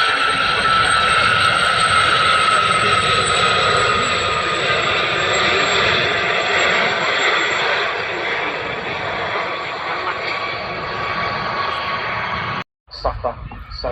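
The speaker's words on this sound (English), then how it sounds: "as the helicopter proceeds through the air. The rotor disc, the blades whirring around on the top." Helicopter rotor blades whirring overhead at the RAF Cosford Airshow, a loud, continuous engine and rotor drone that holds steady with a narrator talking over it, then cuts off briefly near the end.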